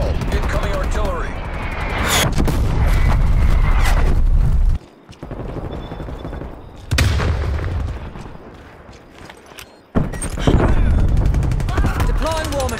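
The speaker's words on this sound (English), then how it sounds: "Incoming artillery." Incoming artillery in Call of Duty: Cold War brings loud, close bursts of gunfire and heavy booming impacts in dense rolling volleys, broken by short lulls, with voices amid the barrage.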